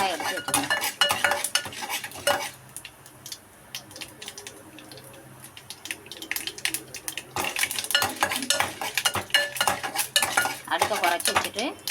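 Mustard seeds pop and splutter in hot oil while tempering for lemon idiyappam, giving dense, irregular crackling close by that swells and thins again, with no talking.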